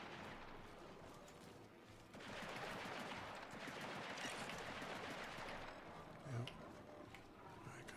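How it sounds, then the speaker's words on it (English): Gunfire in the shooter game Marathon rattles in sustained, fairly faint bursts that thicken after a couple of seconds and keep going, with a brief heavier thump near the end. "Gunfire."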